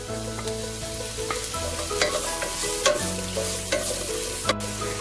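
Sliced onions and green chillies sauté in a hot pan for a chicken cheese roll filling, a steady sizzle broken by repeated scrapes and stirs of a spatula, close and alone with no talk.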